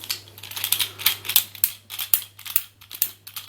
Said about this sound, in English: It's got like a clicking mechanism.